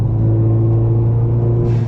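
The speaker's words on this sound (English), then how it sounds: "And actually with the AFE, you can still hear the car pretty good," A Hyundai Veloster N with an AFE intake and a downpipe drones loudly and steadily at close range, its engine and exhaust holding a low, even rumble.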